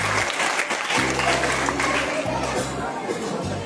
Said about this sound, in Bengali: আরেকবার জোরে একটি করতালি